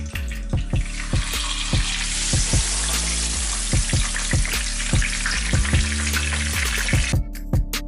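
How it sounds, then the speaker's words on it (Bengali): Pomfret fish frying in hot oil gives a loud, steady sizzle, with repeated low knocks from a utensil or the pan throughout, then the sound drops off near the end. "আমি মাছটা ফ্রাই করি"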